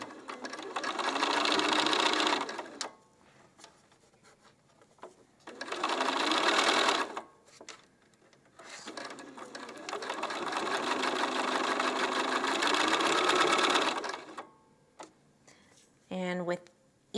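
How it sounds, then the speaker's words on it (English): Sewing machine stitching quilt half-square triangle units, running loudly in three sustained bursts separated by short pauses, with brief quiet handling between runs. "you hold on to that as you're sewing so that you don't lose your points"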